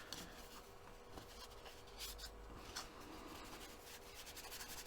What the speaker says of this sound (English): It's definitely loosening up under the rubbing